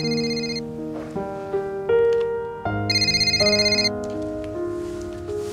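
A melodic electronic phone ringtone plays alone, with bright chiming tones in a repeating tune that pauses and starts again, loud and close, in a hospital room.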